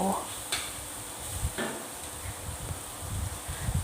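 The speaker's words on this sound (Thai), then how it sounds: "ยีจนกว่าไข่แดงจะละเอียด เข้ากับพริกเผา" Salted egg yolk mashed with chili paste in a pan, soft scraping and tapping of a utensil against the pan under a steady hiss, fairly faint and close.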